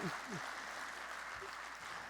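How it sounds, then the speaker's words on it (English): Light clapping from a keynote audience, thin and fairly quiet, sustained for a couple of seconds with a few faint voices briefly rising at the start. "I figured I'd get some applause about that"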